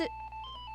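A short telephone ringtone chirp bursts out at the very start, then fades into a steady electronic hum during a co-op survival game session.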